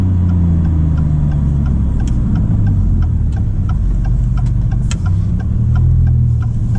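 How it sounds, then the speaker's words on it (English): A 2024 Maserati MC20 with its six-cylinder turbo engine cruising along, a loud, steady low drone with shifting tones and faint ticking clicks layered on top. "I think they've done a good job so far, making a 6-cylinder turbo sound as good as probably you can make it in today's world."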